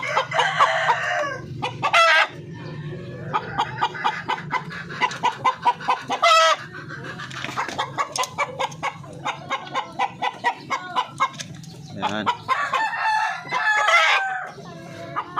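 Darag native chickens cluck in quick, repeated bursts with roosters crowing loudly in between, a busy close-up farmyard chorus with no talking.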